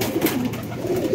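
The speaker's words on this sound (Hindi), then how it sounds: "कबूतर को हम दिखाएंगे इधर से।" Pigeon cooing up close, a soft low warbling coo repeated in a steady rolling rhythm over faint background noise.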